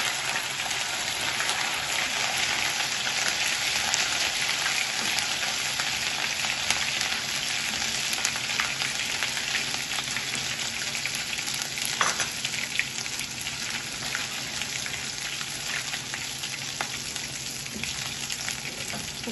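Ginger and garlic fry in a pan with a dense, continuous sizzle and crackle, steady and fairly close for the whole stretch, with no voices over it.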